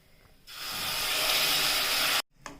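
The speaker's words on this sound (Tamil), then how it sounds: "வெல்லம் பாகம் எடுத்து வச்சிருக்கோம்ல, அதை இதில் ஊற்றிடுவோம்" Jaggery syrup hitting browned coconut in a hot pan, a sudden loud sizzling hiss that holds steady for nearly two seconds, then cuts off, with a short crackle after.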